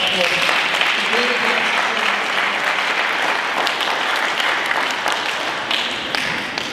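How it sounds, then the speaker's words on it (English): Sustained audience applause in a meeting hall, dense steady clapping from many hands that fades slightly toward the end. "Give yourselves a round of applause."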